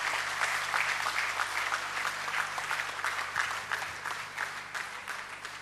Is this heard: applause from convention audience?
yes